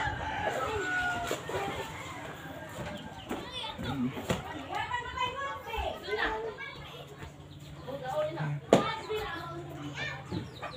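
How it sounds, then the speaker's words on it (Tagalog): Chickens cluck and a rooster crows around a farmstead in the Agusan Marsh, mixed with children playing and people talking nearby, with a sharp burst near the end. "may manok kasi kami dito sa taas na bagong panganak na manok"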